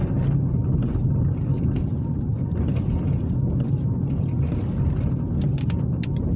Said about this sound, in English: right now, I'm driving down West 40th